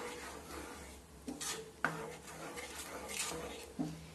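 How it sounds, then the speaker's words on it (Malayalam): A spoon stirring a mixture seasoned with chili powder in a pan, with soft, faint scraping strokes and a few light clinks against the vessel, spaced irregularly in a quiet kitchen. "എന്നിട്ട് നല്ലതുപോലെ ഒന്ന് മിക്സ് ചെയ്യാം."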